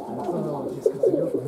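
Sport pigeons coo inside a pigeon loft, soft, close, low burbling calls overlapping in a steady murmur.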